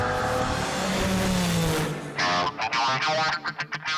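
Porsche 986 sports car engine sounds in a loud sustained roar that then breaks into a rapid stuttering series of revving bursts and cuts near the end.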